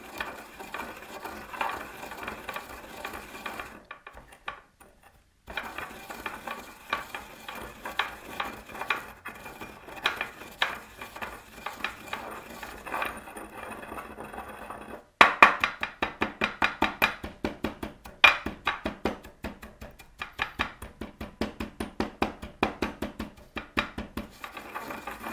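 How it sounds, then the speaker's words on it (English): A mortar and pestle works yellow buckthorn lake pigment, first with rapid dry tapping, then with continuous rhythmic grinding clicks and scrapes that grow louder and more regular after a brief pause. "we're going to do a little bit of a tapping motion to break everything down first, and then we're just going to keep doing our grinding"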